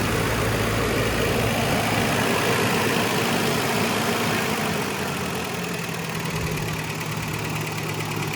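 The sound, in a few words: Toyota 4Runner engine running at a high idle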